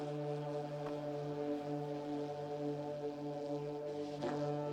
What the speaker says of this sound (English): I don't know what kind of horn they're using right here.